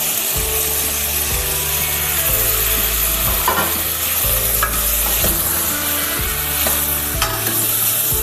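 Stirring gooseberry (amla) into dal in a pan: a steady scraping stir with a soft sizzle underneath, repeated strokes roughly every second, close and fairly loud, with no talking.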